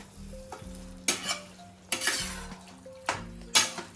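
Spaghetti in red sauce mixed in a pan, heard as several sharp scraping, clattering strokes of a utensil against the pan over a soft sizzle, with quiet gaps between strokes and no voices.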